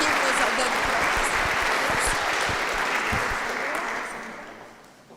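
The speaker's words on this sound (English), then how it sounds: "A round of applause, please" Dense, warm applause from a seated audience at a Hogeschool Utrecht Creative Business graduation ceremony, sustained clapping that fades out toward the end.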